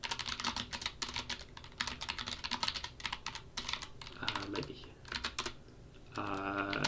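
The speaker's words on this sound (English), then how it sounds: "I don't know why I'm typing in chat as well" Rapid clicking on a computer keyboard, irregular bursts of keystrokes close up and fairly quiet, with a brief spoken word and a tonal sound rising near the end.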